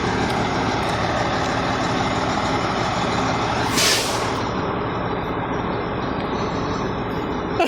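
A bulk cement truck's diesel engine runs steadily and loud at close range, with a sharp hiss of air brake release partway through.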